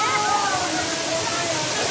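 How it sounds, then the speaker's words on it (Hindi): A natural waterfall at Pandav Dham gives a steady, dense roar of falling water, with voices talking faintly through it. "प्राकृतिक झरने का भरपूर आनंद"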